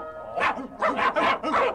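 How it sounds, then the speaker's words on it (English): Hunting dogs bark in a swamp on a 1960 storybook recording, a series of about four quick, fairly close barks in rapid rhythm within a couple of seconds. "The hunting dogs came rushing into the swamp."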